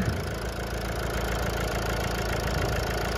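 A 2014 Mercedes-Benz E250 BlueTec 4Matic diesel idles steadily up close, a constant mid-low rumble with a faint knocking clatter and no voices.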